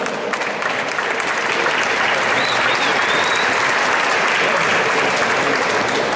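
An audience at a boxing medal ceremony in San Giovanni Lupatoto claps loudly and steadily, a dense sustained wash of applause filling the hall from start to finish.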